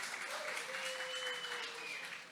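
A young congregation at a youth gathering gives a quiet, distant round of applause, a soft continuous patter with a thin tonal line drifting above it.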